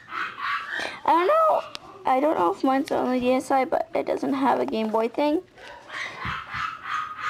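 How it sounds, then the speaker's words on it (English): A pet dog yelps and barks excitedly ahead of a walk, in a string of high, whiny bursts heard behind people talking. "If you hear our dog barking"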